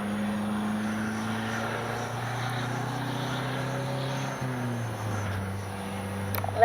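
An Arrows 64mm electric ducted-fan RC MiG-29 jet on its maiden flight, giving a steady whirring fan whine that holds constant, drops in pitch midway and swells slightly at the end.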